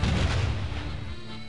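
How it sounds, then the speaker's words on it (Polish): An explosion in the Reksio i Ufo point-and-click video game, a short heavy boom with a low rumbling crash that quickly decays, heard on its own. "wybuch."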